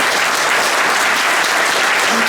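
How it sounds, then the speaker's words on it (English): A large audience in Chicago breaks into loud, sustained applause for David Chang, a dense, even roar of clapping that fills the whole stretch without letup. "I hope you'll give him a big round of applause for his work."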